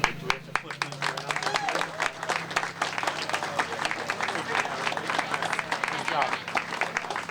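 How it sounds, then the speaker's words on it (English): A crowd at the State Fair Coliseum applauds steadily, dense clapping that continues for several seconds at fairly close range. "Let's give them all a nice big round of applause one more time."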